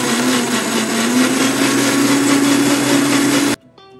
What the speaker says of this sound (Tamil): இப்போ நம்ம மிக்சியில் சேர்த்துடணும்.